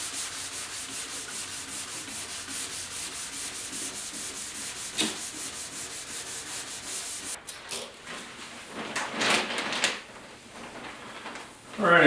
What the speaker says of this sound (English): If you're sanding clear coat, make sure you be very cautious around the edges.